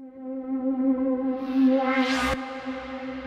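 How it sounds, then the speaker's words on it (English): A sustained ElectroFuzz synth tone with a steady low note swells as a brighter pad rises over it, then cuts off and leaves a soft hum behind. "we have a synth and a pad kind of ending that intro sequence here"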